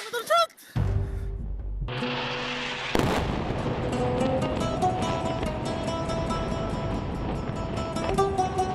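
A single gunshot cracks out in Gaza, a sharp loud blast followed by a long broad rumbling tail that lingers for several seconds, preceded by a brief voice and a low humming tone.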